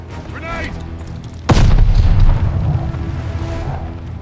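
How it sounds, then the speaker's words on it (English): A grenade detonates in Call of Duty: Vanguard with a single loud, close boom that rumbles and decays over a couple of seconds. A voice is heard just before the blast. "Grenade!"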